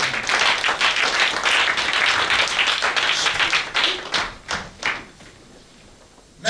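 A church congregation bursts into loud, sustained clapping and cheering during a French-language worship service, the dense applause thinning into scattered claps and fading out.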